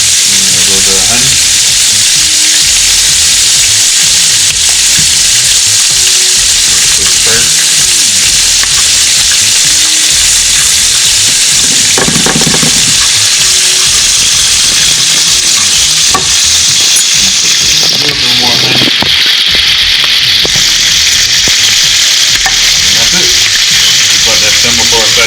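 Butter and honey simmering in a pan for honey butter give a loud, continuous sizzle and bubbling hiss close up, steady throughout with faint stirring.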